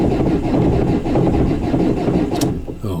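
A running car engine with a crankshaft sensor fault, heard up close as a steady loud clattering rattle throughout.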